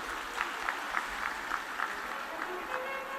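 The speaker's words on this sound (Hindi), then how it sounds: "जोरदार ताली बजाएं।" A devotional religious storytelling gathering in India, where the audience breaks into loud, sustained applause with rhythmic clap bursts throughout.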